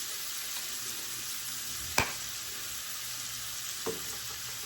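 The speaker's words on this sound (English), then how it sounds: "We're going to saute this until it's soft, or starting to get soft." Ingredients sauteing in a pan for cowboy spaghetti, a steady close sizzle with a sharp clink of a utensil near the middle and a fainter tap near the end.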